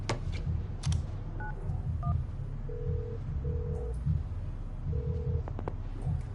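Phone dialing in the video game FIFA 19: a few short keypad beeps, then three longer steady tones repeating, heard over a continuous low background hum.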